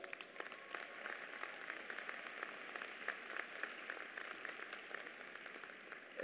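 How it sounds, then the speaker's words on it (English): Steady applause fills a university commencement hall, a large audience clapping continuously and evenly at moderate distance, with no voices over it. "Please give him a round of applause."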